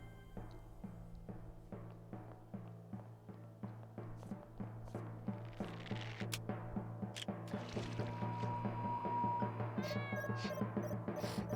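A cat meowing in the video game Dave the Diver, several short meows over a low steady hum and rhythmic ticking game sounds, fairly faint with no talk.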